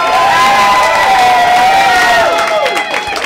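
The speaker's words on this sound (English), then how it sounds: "Let's have a big round of applause for Andy back there." Crowd cheering and clapping at a New Year's Eve show at the Red Umbrella, loud and close at first, with whoops and shouts that thin out toward the end.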